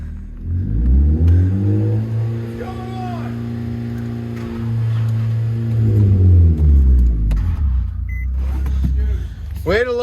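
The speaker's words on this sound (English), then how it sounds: "start your engine" A Nissan G37 engine with basic bolt-on modifications revs up loudly several times, rising and falling in pitch, close by, with brief voices in the background.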